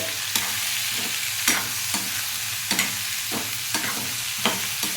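A spoon scrapes and stirs fish tomato curry with onions and chilies in a hot pan, a steady frying sizzle broken by five or six sharp scraping strokes at regular intervals, close and with no voices.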